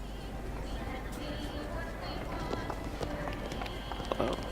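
Quick running footsteps in the BioShock Infinite video game patter steadily under a low hum, with someone talking over them throughout.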